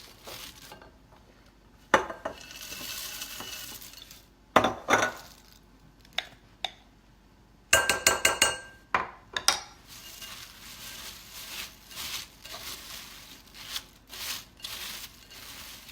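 Chex Mix is gently tossed and stirred, producing intermittent dry rattles, crunches and clinks against a bowl, irregular bursts separated by quiet pauses.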